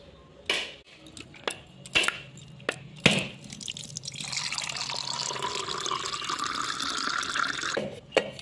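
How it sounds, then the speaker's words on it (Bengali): Milk is poured onto washed rice: a few sharp knocks and drips come first, then a steady close pouring stream runs for several seconds before a final clink. "এর মধ্যে আমি দুধ দিয়ে দেবো।"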